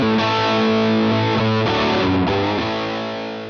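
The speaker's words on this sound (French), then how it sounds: "La pédale Straight 6 est un overdrive. L'interrupteur Bright génère un son brillant typiquement british." Electric guitar played through a VOX Straight 6 overdrive pedal with the Bright switch engaged, loud sustained overdriven chords alone that change a few times and slowly fade out at the end.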